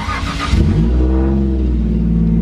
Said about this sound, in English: Let's see if I can figure out how to start her.